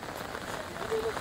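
Steady rain hisses down on a rainy day by the sea at Devgad, a continuous, even patter filling the whole moment.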